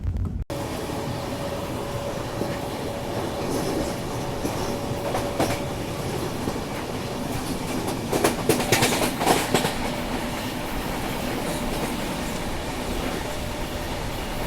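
The Rajdhani Express rolls steadily toward Panvel Junction, heard from inside with a constant rumbling hum, rhythmic wheel clatter and a few louder clanks and squeals near the end.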